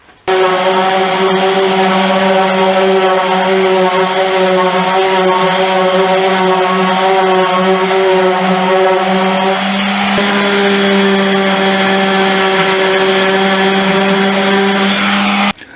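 A power sander works wood putty on a baseboard beside a register, giving a steady, loud, high whine that holds unbroken for about fifteen seconds and shifts pitch slightly midway.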